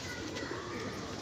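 A pigeon coos nearby outside, a soft low burbling call heard over a steady background hum.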